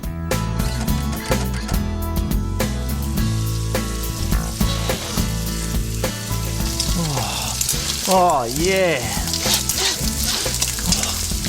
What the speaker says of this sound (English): the bacon sizzling in the pan